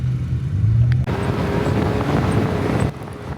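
A Can-Am Maverick R side-by-side with upgraded suspension is driven hard off-road, its engine note and rushing wind noise loud and close, the drone holding steady before cutting abruptly near the end.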